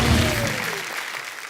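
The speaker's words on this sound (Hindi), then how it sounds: "एक बार जोरदार तालियां स्पाइडरमैन के लिए।" Studio audience applause welcoming Spiderman onto a comedy talk show stage, a dense burst of clapping that starts full and gradually thins out over a second and a half, with a faint voice underneath.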